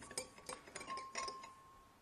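A spoon clinks against a glass as pH calibration powder is stirred into water, giving a quick series of faint metallic taps close by with no talking.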